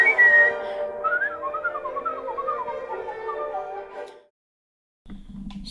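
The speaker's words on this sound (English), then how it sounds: "we are going to Louisburg to whistle" A person whistles a wavering, bending melody for about four seconds, fairly close and alone, before a pause and a brief low rumble at the end.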